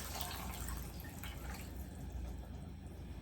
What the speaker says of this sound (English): We're going to add some beef broth.